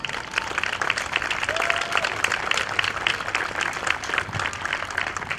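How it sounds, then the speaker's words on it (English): Sustained applause from a community crowd at a courthouse gathering, steady dense clapping filling the whole stretch at moderate loudness with a faint voice or two underneath. "I'd like a round of applause for all of you."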